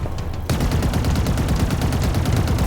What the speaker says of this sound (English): That Ravager's a pretty decent weapon, actually.